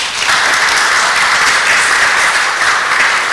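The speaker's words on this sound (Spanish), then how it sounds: "Fuertes palmas." An audience at a medical lecture on emergency triage applauds, a dense, loud, steady wash of clapping that lasts throughout.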